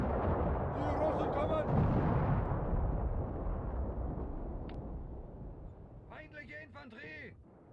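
Gunfire from ambushing units in the Graviteam: Fateful Strike wargame comes as a dense, rumbling barrage of distant battle bursts, fading gradually, with a few brief voices cutting in near the start and end.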